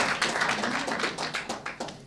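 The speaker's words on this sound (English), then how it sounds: "Let us have a very, very warm round of applause" Audience applause for Polycarp Igathe at a KEPSA event, a dense, steady wash of many hands clapping at moderate volume, sustained for a couple of seconds without talk.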